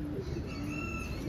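A black saddle fantail pigeon hen coos softly nearby, a low murmuring call held under faint steady background noise.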